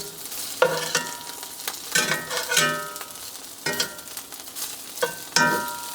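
Tempeh searing in a hot pan, sizzling in repeated bursts as pieces are stirred and turned, with crisp spattering crackle close up and no talking.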